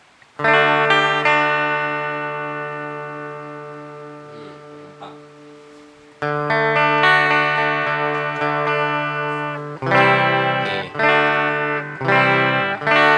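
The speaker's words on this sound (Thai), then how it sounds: "เสียงกีตาร์เข้าแล้วนะครับ" An electric guitar played through a self-built overdrive distortion pedal rings out sustained distorted chords, then strums choppier chords that cut on and off, loud and saturated with no voice.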